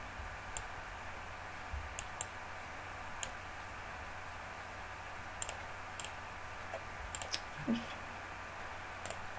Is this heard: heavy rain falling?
no